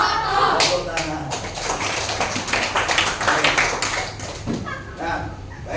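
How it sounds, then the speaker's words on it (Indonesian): Many children clap their hands at once, making a dense, continuous patter of applause that stays loud throughout before tapering slightly near the end. "Tepuk tangan."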